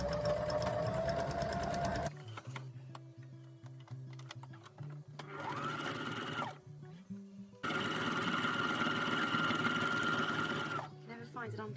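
A domestic sewing machine runs in a steady whirring burst while stitching a Peter Pan costume, stops, runs briefly again, then starts a longer burst, close and fairly loud, with a voice talking between the runs.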